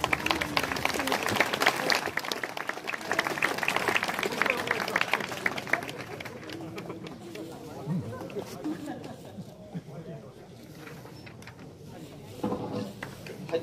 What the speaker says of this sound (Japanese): じゃあ皆様拍手でお願いいたします。